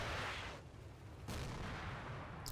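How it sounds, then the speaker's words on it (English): Mortar shells firing and exploding in the Combat Mission: Battle for Normandy video game: a dull distant rumble of artillery, one sharper blast in the middle, fairly quiet, with no voices. "Is that really our mortars coming?"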